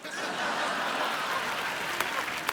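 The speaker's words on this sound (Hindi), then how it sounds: "अरे क्या ठोको ताली, ठोको ताली।" Audience on a Hindi comedy show claps steadily at moderate volume with some chuckling mixed in, and a couple of sharper claps stand out near the end.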